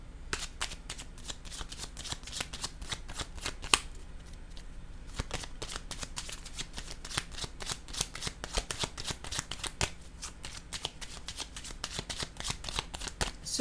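Playing cards being shuffled and laid down, a fast run of crisp flicking riffles and slaps, close and fairly quiet, continuing throughout with a short pause.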